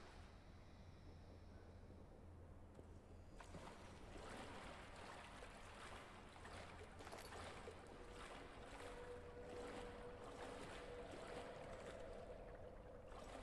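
Water sloshes and swirls as a character wades through it in the horror game Amnesia: The Bunker, a steady watery wash with faint ambient drone underneath and no voices.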